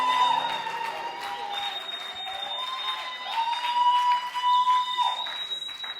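A church congregation applauds and cheers steadily during a worship service, a dense wash of clapping with singing voices and a sustained tone ringing over it throughout.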